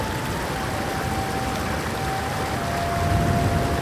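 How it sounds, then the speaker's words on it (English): Rushing water from Skakla waterfall near Vratsa, a roughly 141-meter mountain cascade, forms a steady broadband roar, close and continuous, with a faint thin tone running beneath it. "The waterfall Skakla is a real natural diamond."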